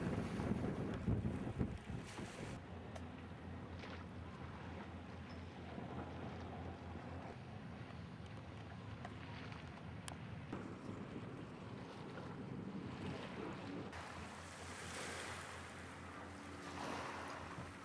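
Shipping passes off the East Cowes waterfront, where a new breakwater is being built. A low, faint rumble of vessels runs under steady wind buffeting and lapping waves, with no voices.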